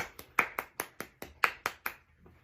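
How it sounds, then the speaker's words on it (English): Neighbours clapping for the NHS during lockdown, heard as about ten crisp, evenly spaced hand claps, fairly close and unaccompanied, before stopping abruptly. "They've just started clapping for the NHS as I'm recording this."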